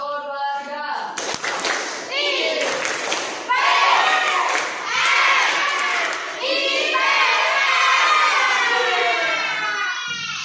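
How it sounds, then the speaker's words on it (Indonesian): A school class does the rhythmic tepuk IPS group clap, with children's voices chanting and shouting along in patterned bursts. Claps and chanting stay loud and close throughout. "Ayo biar tetap semangat, tepuk IPS sekali lagi."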